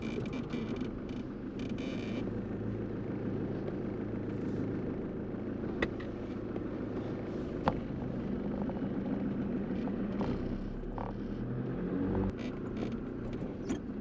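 A car driving down to a farm yard, its engine a continuous low rumble heard from inside the vehicle with faint clicks and knocks over a steady road drone.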